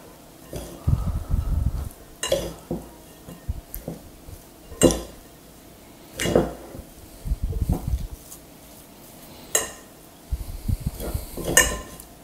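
Sliced onions are scooped and tossed through a dry onion bhaji mixture, giving intermittent scrapes and clinks of a utensil against a bowl in short, uneven bursts, close and fairly loud with quiet gaps between.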